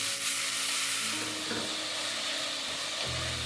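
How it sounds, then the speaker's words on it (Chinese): Onions and tomatoes sauté in a pot for a tomato beef brisket stew, giving a steady, close sizzle with soft stirring scrapes, a low hum continuing beneath and a slight shift near the end. "先放洋葱，慢慢的煸香，之后呢，我们再放入番茄"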